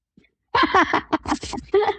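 A short burst of a person's sneeze, loud and close, following a moment of near silence, with a few quick breathy bursts after it.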